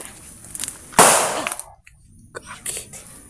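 A single loud, sharp bang like a firecracker or gunshot rings out in an outdoor rural setting, followed by a short decaying tail and quieter scattered background noise.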